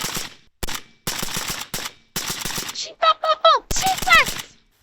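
Suppressed shots from an Arsenal 5.56 rifle fitted with a resilient can, several sharp muffled reports in quick succession close by, mixed with excited voices and laughter.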